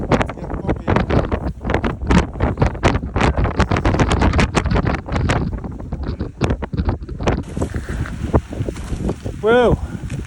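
Strong blizzard wind on a Glenshee Munro summit in the Scottish Highlands, amid high winds and snow, buffets the microphone in loud, ragged gusts that roar almost continuously while people talk through it.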